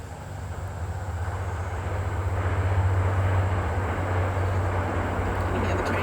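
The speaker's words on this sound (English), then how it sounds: "Can you hear the train?" A passing train gives a continuous low rumble with a steady drone that swells and holds, heard from some distance outdoors.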